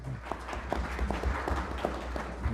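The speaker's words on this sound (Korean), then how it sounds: "박수로 맞이해 주십시오." Faint, distant clapping from an audience at a Korean parliamentary policy forum greets an arriving professor, a soft patter of scattered claps over a low room hum.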